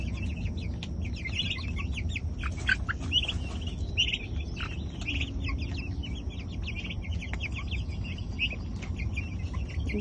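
Young chickens in a coop cluck and chirp continuously, with many overlapping peeps and short calls over a steady low background hum and no talking.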